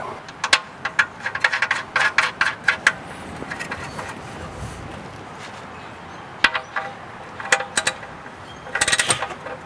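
A hand ratchet clicks in short bursts of rapid pawl clicks, separated by pauses, as the oil drain plug is tightened on a 2019 Jeep Compass; the sound is close and fairly quiet, with no talking.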